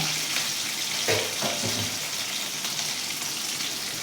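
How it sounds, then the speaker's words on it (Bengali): Chopped tomato and ginger paste fry in a pan for a Bengali pumpkin chhakka, a steady broadband sizzle with a few soft stirring scrapes near the start, close and fairly loud, with no talk. "এবারে টমেটো কুচিটা ভেতরে দিয়ে দিলাম দিয়ে এটা একটু নাড়বো তার সাথে আদা বাটাটা দিয়ে দিলাম"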